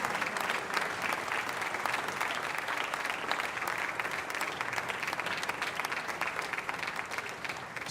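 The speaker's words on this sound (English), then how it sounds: "One really big hand of applause for Chief Master Sergeant Mel Jenner and all of our veterans." An audience applauds veterans at a fireworks event, dense, fast clapping from a large crowd that continues steadily and evenly, heard from slightly back with no one speaking over it.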